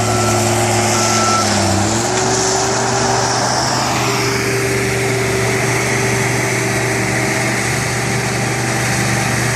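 A dump truck backs up at an excavation site while its engine hums steadily and a backup alarm sounds. The machinery noise stays loud and close throughout.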